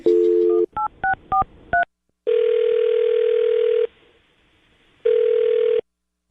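Telephone handset dialing out: a short tone, then four quick DTMF keypad beeps, followed by two long steady ringback tones separated by a silent gap, clean and close with no talking.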